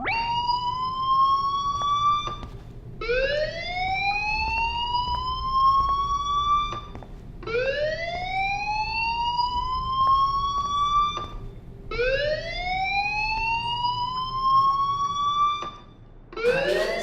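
A fire alarm in the Life Is Strange video game wails in rising sweeps, repeating about every four seconds, loud and steady with no talking.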